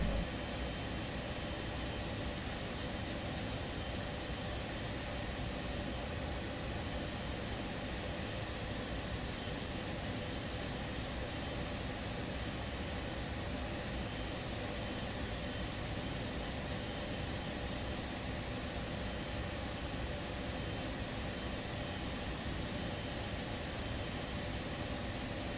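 Jet engines of a BAe 146-300 in a flight simulator drone steadily through a low approach over Durham Tees Valley Airport, a constant loud broadband roar with a faint high whine and no voices.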